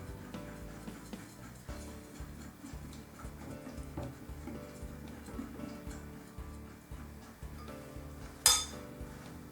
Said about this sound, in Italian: Mescolo un po' con la frusta